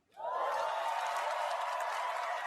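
Audience applause in a played clip from a speech, a sudden steady wash of clapping from a large crowd, fairly faint and continuous.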